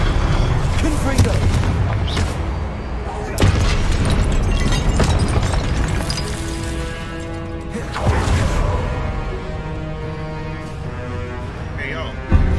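A Confringo explosive spell from a Harry Potter wizard video game, heard as several booming blasts and crackling bursts over a loud, busy game soundscape with music and voices underneath.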